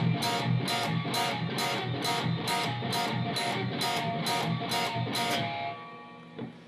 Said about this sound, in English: we're going to pick our bottom 3 strings in an upward motion, and then you'll rest your fingers on these strings and strum down